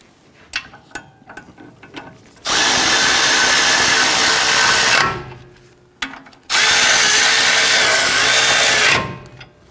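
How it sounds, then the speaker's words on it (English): A power tool snugs down brake bolts on a 2007-2021 Toyota Tundra during a parking brake shoe job, running in two loud, steady bursts of a few seconds each after some faint clicks and handling noises. "Let's go ahead and snug those down."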